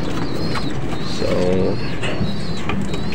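Racing pigeons in a loft coo in soft, low repeated calls, with a steady hum of background noise throughout.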